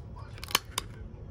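Scissors cut the end of a laminated paper sheet into a rounded shape, making two quick, crisp snips close by against a low background hum.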